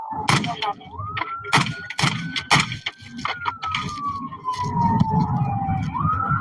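A police car siren wails in slow rising and falling sweeps, fairly loud, while people talk excitedly over it with sharp bursts of voice.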